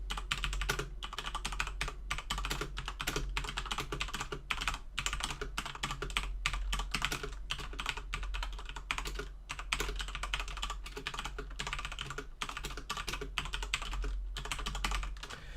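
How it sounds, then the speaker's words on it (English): Continuous rapid clacking of mechanical keyboard keys, close and steady for the whole stretch, with no voices. "I'll just do a bit of a type test so you can hear what it sounds like"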